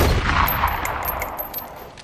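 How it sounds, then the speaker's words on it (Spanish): A rapid burst of video game gunfire with sharp, metallic reports and a short echoing tail, loud and close, with no voices. "Dos tiros en el pecho, señor."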